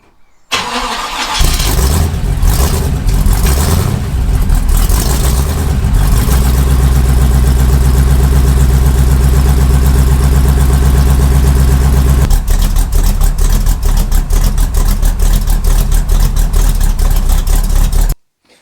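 A Chevrolet Chevelle's big engine with a custom 3-inch exhaust cranks and starts, then settles into a loud, deep rumbling idle with a throaty exhaust burble, blipping the throttle toward the end.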